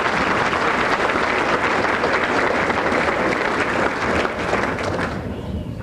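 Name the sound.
audience applause at awards banquet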